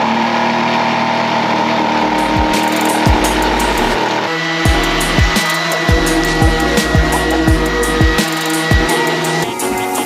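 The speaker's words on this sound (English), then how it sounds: "trim some of the back off to make it fit" Power tool loudly whirring while trimming the back off a van countertop, a steady motor drone with repeated sharp thumps and bumps as the blade works through the material.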